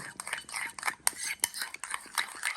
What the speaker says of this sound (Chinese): 然后加入刚煮开的水，边倒边搅拌。